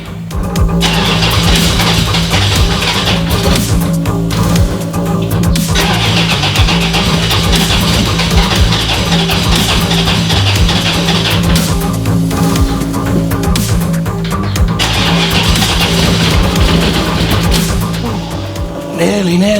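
An MG Metro 6R4 rally car engine cranks repeatedly with throttle blips, starter bursts of whirring and churning that stop and restart across the clip, loud and close, without catching.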